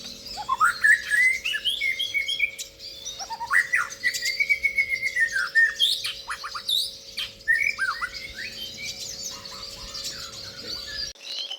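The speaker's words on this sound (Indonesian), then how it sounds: "banyak teman-teman pecinta burung sin yang ingin memelihara burung siskin sebagai masteran" A siskin sings a long, lively run of twittering chirps, trills and rising whistles, close and clear over a faint steady electrical hum, with no speech.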